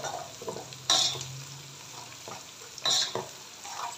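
Cumin seeds sizzle in hot oil in a cooking pot for a vegetable pulao, making a close, crackling fry. Two sharp bursts stand out, and no one speaks.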